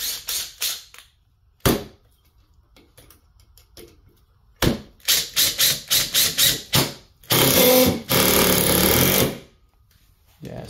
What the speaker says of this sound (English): Typical speed of an impact for a Makita.